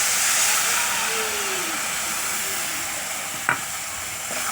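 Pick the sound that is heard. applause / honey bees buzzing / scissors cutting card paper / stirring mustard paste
stirring mustard paste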